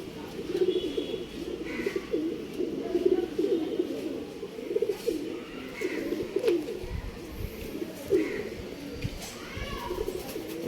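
Female jack pigeon cooing softly in repeated low throaty phrases, fairly close, with faint background noise and no talk.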